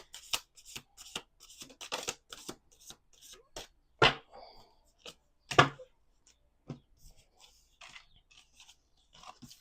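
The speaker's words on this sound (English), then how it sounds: "Let's do one more shuffle." A deck of angel oracle cards is shuffled up close, quick crisp riffles and slaps in irregular bursts with short pauses between, a couple of louder snaps standing out.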